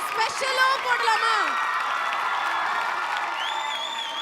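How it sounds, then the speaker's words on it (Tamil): An audience claps and cheers after a dance performance on a televised competition stage, a steady crowd wash heard under a loud voice that speaks throughout. "அந்த கைத்தட்டல் எல்லாம் உங்களுக்கு கிடைச்சாச்சு"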